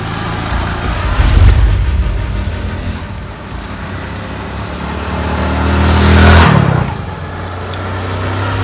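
A motorbike revs hard twice, each throaty surge swelling loud and close before settling back to a steady idle rumble, with no talk over it.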